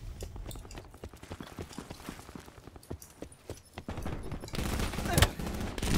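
Fast-firing gun in Black Ops 4 gameplay, rapid rhythmic shots in quick bursts at moderate distance, growing louder and denser toward the end with a sharp crack near the close.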